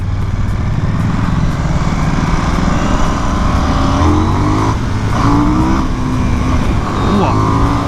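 A 2024 KTM Duke 990 motorcycle on a test ride, its engine droning loud and steady with rising revs under heavy wind noise, while the rider talks over it.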